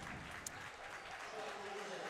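Applause from a Hazelwood Central fan section at a high school varsity basketball game against CBC, a steady, moderately distant patter of clapping that runs the full length, with crowd murmur mixed in.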